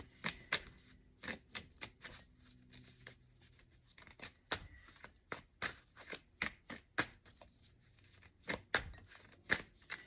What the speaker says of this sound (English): I had difficulty shuffling.